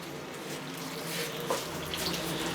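First wort runnings from a homebrew cream ale mash draining into the brew pot, a steady close rush of pouring liquid with no talking.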